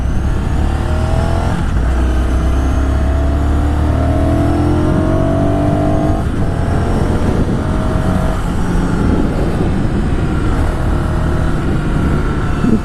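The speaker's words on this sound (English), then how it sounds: "Let's go ahead and get it started up here." A 2016 Ducati Scrambler Sixty2 motorcycle engine idles and revs up and down repeatedly, close and loud, with no talking.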